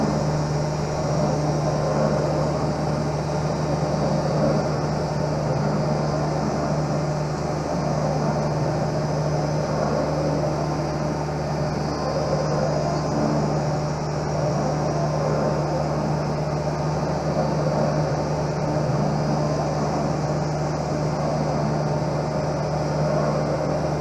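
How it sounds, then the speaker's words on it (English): A lens edger's polishing wheel spinning to polish the edges of Oakley 5099 TinCup prescription lenses, a steady, unbroken mechanical whir with a constant hum that holds at one level from start to finish. "it's going around on the polishing wheel, polishing the edges"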